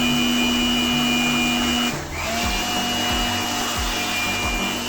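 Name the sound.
air blower cleaning dust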